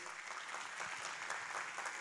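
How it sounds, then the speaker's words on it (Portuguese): A church youth service congregation applauds, a steady, even patter of many hands clapping at a distance, fairly faint throughout. "Vamos aplaudir o Senhor mais uma vez"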